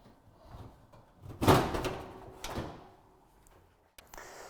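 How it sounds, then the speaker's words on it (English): A Magis M heat pump's cover is pulled free, giving a scraping rattle with a sharp clunk, a second softer scrape, then a brief knock, all close and moderately loud. "when you just took the cover off the heat pump"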